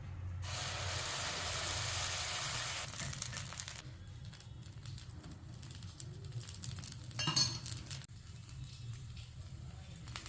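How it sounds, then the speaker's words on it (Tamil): Dosa batter poured onto a hot pan for soft sponge dosa gives a steady, soft sizzling hiss that fades after a few seconds, followed by quieter crackling and a light metallic clink near the end. "இப்போ நம்ம தோசை ஊற்ற போகிறோம் காஞ்சி தோசை ஊற்ற போகிறோம்"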